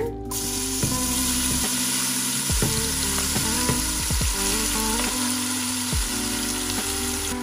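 Ogao, a Colombian sofrito, fries in olive oil in a large pot with a steady, close, crackling sizzle and scattered pops throughout, with no talking.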